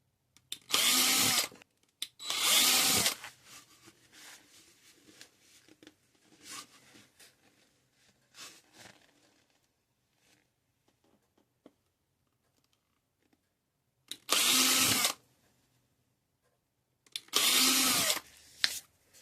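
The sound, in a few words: small drill drilling holes in a gourd for light beads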